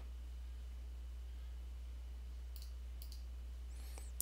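A couple of faint, crisp mouse clicks on an Arch Linux computer sound about a second apart near the end, over a low steady hiss with no talking.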